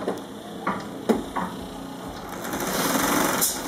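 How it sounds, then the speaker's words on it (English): A tape edge sewing machine stitches a mattress seam on an inner panel beneath a pillow top: a steady mechanical whir with a few sharp clicks, building into a louder continuous stitching drone near the end, heard alone. "we're going to sew this seam up here with our tape edge machine"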